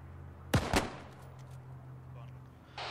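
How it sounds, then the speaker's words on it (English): A tank in a WW2 Norwegian campaign video game firing HE shells, two sharp booming shots in quick succession followed by low rumbling engine drone, with faint distant clatter afterward. "Load HE and start firing."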